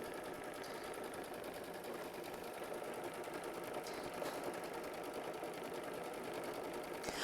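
A sewing machine stitches steadily through a quilt block, a continuous even mechanical whir holding at a moderate, unchanging level throughout with no voices.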